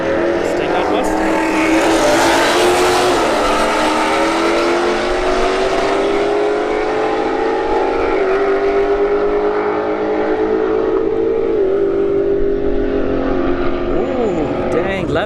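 Drag racing cars at a Street Heat event at Bradenton Motorsports Park, an S197 Mustang among them, roar steadily down the strip, the engine pitch climbing across the run, loud and continuous under a commentator's voice.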